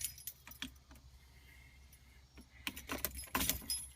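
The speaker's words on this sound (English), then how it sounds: "Then we're going to take our key" A bunch of car keys jingles and clinks close by, a few light rattles early on, then a louder burst of jangling near the end as the key is handled at a car's ignition.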